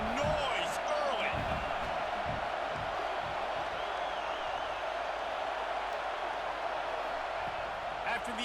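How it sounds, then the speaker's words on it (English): Steady roar of a stadium crowd in the EA Sports College Football 26 video game, a constant wash of noise with faint cheers, under commentator speech throughout. "This crowd bringing the energy and noise early."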